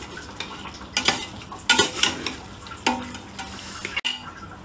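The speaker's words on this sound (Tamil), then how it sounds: "1 கிலோ மட்டன் எடுத்து கழுவி நீட்டா வச்சிருக்கேன். இப்போ நம்ம அதை ஆட் பண்ண போறோம்." Mutton added to a hot pan for biryani and stirred, with a sizzling frying bed broken by several sharp scraping strokes of a metal spoon against the pan and clanks of utensils.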